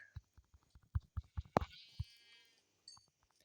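A short sheep bleat in a video game amid a series of soft thumping footsteps, followed by a faint higher cry, quiet and close.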